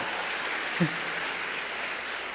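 An audience at an event with Vice President Harris on gun violence prevention claps in a steady, even wash of applause from start to finish, with one brief louder bump near the beginning.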